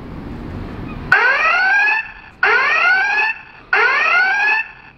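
Armadillo security system turret alarm goes off indoors: three loud, identical bursts of sweeping, warbling electronic tones, each about a second long and separated by brief gaps.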